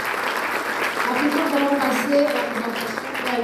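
Audience applause at a motivational coaching event fills the room, a steady wash of clapping from a crowd, with some voices mixed in underneath.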